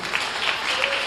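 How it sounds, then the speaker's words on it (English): Audience applause at a county fair lamb and sheep show, honouring the grand champion market lamb winner; a steady, moderately loud wash of clapping fills the short stretch with no pauses. "Let's give Sylvia Nessa a nice round of applause, please."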